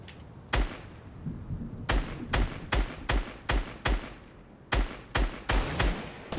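Sharp, loud gunshots ring out in Fortnite in an irregular series, one, then bursts of four and four more, each with a short echoing decay, no talking.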